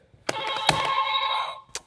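A buzz-in bell rings once during a guessing game about natural and manufactured stone, a close, bright metallic ring held for over a second and then cut off, with a sharp knock just before and another brief tap at the end.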